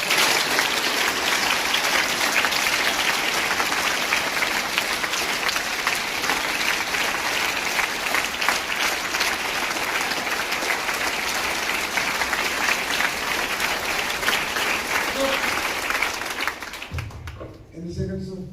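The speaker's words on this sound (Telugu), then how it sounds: "నేను ఇక్కడ స్టార్ట్ అనగానే క్లాప్స్ కొట్టండి. Count and clap." A group of students in a classroom clap continuously in a counted round, a dense and steady patter of many hands lasting about seventeen seconds before it stops abruptly, with murmuring voices at the end.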